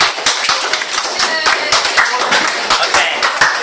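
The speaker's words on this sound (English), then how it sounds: "Give a round of applause for everybody." Classroom audience claps in a lively, uneven patter, close and fairly loud, steady for a few seconds.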